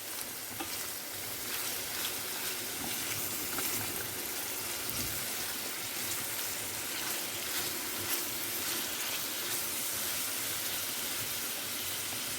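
Onion and minced meat fry in a pan for börek filling, giving a steady, close sizzle and hiss with faint stirring scrapes and no talking.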